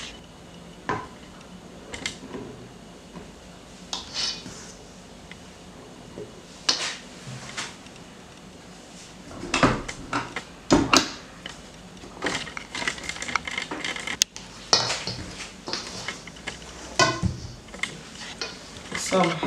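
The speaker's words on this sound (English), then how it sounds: "So we'll be adding in our flour bit by bit into our mix." Flour being worked bit by bit into chunky cookie dough with nuts, irregular scraping, knocks and clatters of a utensil against a bowl, close and intermittent, with occasional talking.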